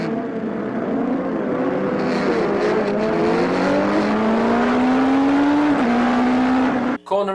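Racing motorcycle on a track-day lap around a circuit, engine note climbing steadily through the gears with a brief shift dip, loud and close from on board, wind roar throughout, cutting off abruptly near the end.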